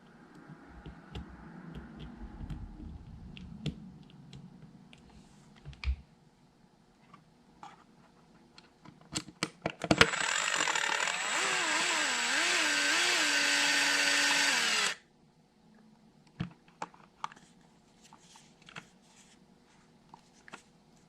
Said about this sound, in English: I really like using this DeWalt gyroscopic screwdriver.